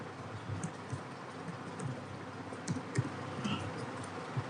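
Keys clatter in irregular bursts as a name and email address are typed on a computer keyboard into Excel cells, close and fairly quiet, with no one speaking.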